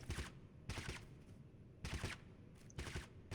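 Gunfire in the video game Totally Accurate Battlegrounds sounds in faint, distant bursts of several quick shots, separated by short pauses.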